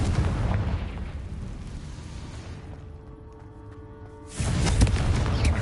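Confringo, an explosive fire spell cast in the video game Hogwarts Legacy, erupts as a loud, booming blast, then the noise drops to a quieter tonal stretch before a second heavy explosion bursts in near the end.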